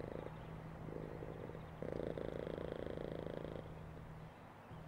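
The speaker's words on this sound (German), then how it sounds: "Sie schnurrt." A cat purring in the Amazing Frog video game, a soft, steady rhythmic rumble that carries on for several seconds at low volume.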